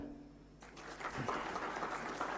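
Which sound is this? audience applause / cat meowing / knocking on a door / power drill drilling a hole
audience applause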